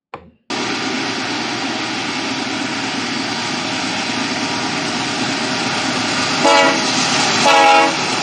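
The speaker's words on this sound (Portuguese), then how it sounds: "Temos aqui a passagem do trem." A long freight train with three locomotives in multiple traction passes steadily after a brief silent start, its broad rumble continuous and fairly loud, rising slightly near the end with some squealing tones.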